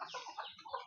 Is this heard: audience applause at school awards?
no